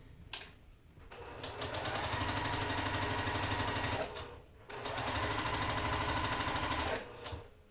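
A sewing machine runs two long bursts of rapid, buzzing stitching along quilt block seams, each starting and stopping abruptly with a short pause between, close and loud with no voices.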